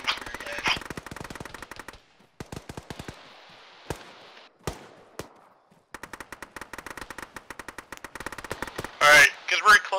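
Rapid automatic gunfire rattles through a tactical Arma military battle, sharp bursts and single shots spread over several seconds with short gaps, loud and close, with a little voice chatter near the end.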